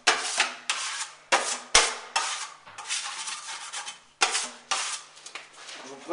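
Small drywall knife scraping along flat joint tape on plasterboard, a series of close, rough rasping strokes of varying length with short gaps between passes and a sharp tap partway through, no talk.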